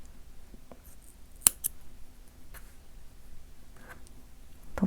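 Scissors snip black yarn during crochet work on a chubby rabbit dish scrubber, giving a couple of brief, crisp cuts close by in an otherwise quiet setting.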